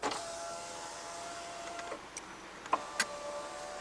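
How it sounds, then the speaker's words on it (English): Power window switches operated inside a 2019 Abarth 595 manual, producing a steady electric motor whine with a few sharp clicks near the end, close and clear with no talking. "Also the controls for the window switches are here."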